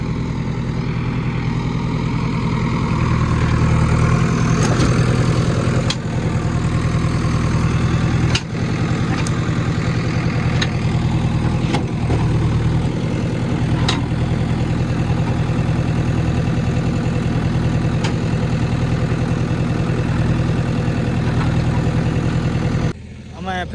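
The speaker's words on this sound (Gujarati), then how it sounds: "અહીંયા વિજયભાઈનું જીસીબી છે." A JCB backhoe loader's engine idling nearby, a steady low diesel drone that runs unbroken for over twenty seconds, with a brief voice near the end.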